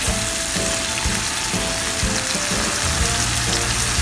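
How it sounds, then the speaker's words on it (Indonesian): Spices for beef rawon sauté in a pan, a loud continuous sizzle and crackle with rhythmic scraping and clinking of a utensil stirring through them. "Jadi semua udah aku tumis jadi satu."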